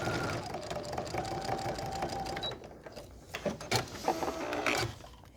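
A sewing machine stitches a cat quilt block, running steadily and close for a couple of seconds before stopping, followed by scattered handling clicks and fabric sounds.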